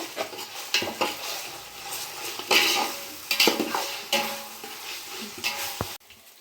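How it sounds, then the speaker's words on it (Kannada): Ginger garlic paste fries in a pan while a metal spoon scrapes and clinks against it in repeated close strokes over a soft sizzle. "ಶುಂಠಿ ಬೆಳ್ಳುಳ್ಳಿ ಪೇಸ್ಟನ್ನು ಚೆನ್ನಾಗಿ ಫ್ರೈ ಆಗಬೇಕು."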